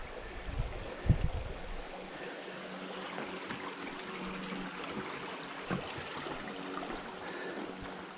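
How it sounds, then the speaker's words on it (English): A clear forest creek on a hiking trail flows nearby as a steady, soft rushing trickle with no voices. A couple of faint knocks come from footsteps on the crossing. "as we make our way across this creek"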